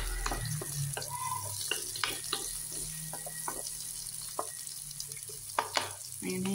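Shrimp and ginger fry in a pan, making a soft, steady sizzle broken by frequent clicks and clatters of stirring, fairly quiet and with no voices.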